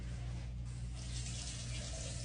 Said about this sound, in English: now I'm going to turn my water on